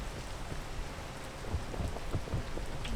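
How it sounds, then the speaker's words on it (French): Steady rain falls in the video game Peak, a dense, even hiss with scattered louder drops, heard alone with no voices over it. "Oh, il pleut tout le temps."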